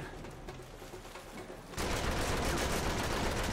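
Enemy gunfire in Uncharted 3: Drake's Deception, quiet at first, then a sudden loud, sustained burst of rapid shots that continues to the end.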